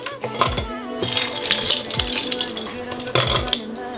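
Ice cubes dropped into a glass for a soju cocktail, several sharp clinks and clatters in quick bursts, close up, with no talking.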